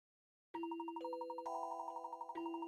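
Clear, resonant bell dings from a Professor Layton puzzle game on Nintendo DS, four struck tones in sequence at different pitches, each ringing on with a shimmering sustain, alone and close.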